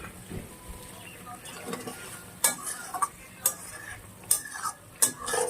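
A spoon stirs grape curry in a pan after the lid is lifted, with soft scraping and several sharp clicks of utensil against the pan over a faint low background.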